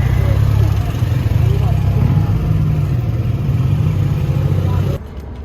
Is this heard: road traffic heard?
yes